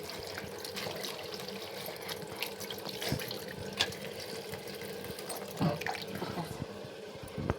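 Water runs and splashes steadily, as if draining through a strainer, with occasional clinks and knocks of a container throughout.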